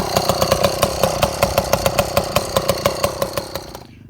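A motorized bicycle engine with a straight-pipe exhaust runs close by, loud and raw, with a rapid, evenly pulsing two-stroke popping that holds steady before cutting off near the end.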